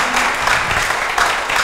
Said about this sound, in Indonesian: Tepuk tangan buat tim Go sekali lagi.